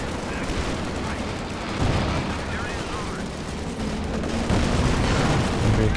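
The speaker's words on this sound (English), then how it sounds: "That's the Axis mortar actually." Axis mortar fire in Company of Heroes 2, heard as dull booms and rattling bursts buried in a dense, continuous battle din of gunfire and explosions.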